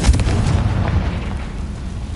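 Confringo blasting spell exploding in Hogwarts Legacy, a deep booming burst at the start that rolls into a sustained rumbling wash, loud and without talk.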